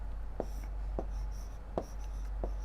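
Pen or chalk strokes writing out a final answer during a class 6 maths lesson: four short scratchy strokes at uneven intervals over a steady low hum, with no talking.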